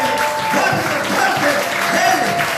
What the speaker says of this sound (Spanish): eso fue un aplauso al Señor, pero fuerte